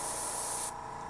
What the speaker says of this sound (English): this is Reichland Flesh Shade that I'm kind of spraying over.